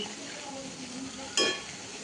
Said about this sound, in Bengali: এটা সুন্দর করে একটুখানি হালকা হাতে ভেজে নেবো